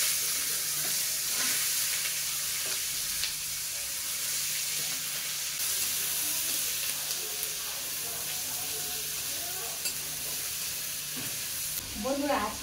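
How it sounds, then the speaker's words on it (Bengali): Three large onions cut into pieces frying in oil for a fish curry, a constant moderate sizzle with scattered stirring clatters and a louder scrape at the end. "3টে বড় সাইজের পেঁয়াজ টুকরো করে কেটে নিয়েছি, তেলের মধ্যে দেবো।"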